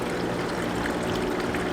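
Water trickling and pouring into a small backyard creek waterfall as it fills, a steady close splashing flow with a faint pump hum beneath.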